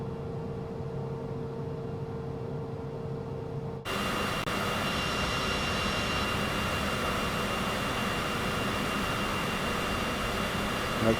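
A Cessna Citation CJ4 business jet taxis in Microsoft Flight Simulator 2024, its steady whining jet engine hum jumping abruptly louder partway through and then holding a constant roar with no talk.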